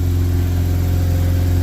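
A Mazda RX8 rotary engine idling as it warms up, a loud, steady, close low drone with an even pulsing throb and a faint whir above it.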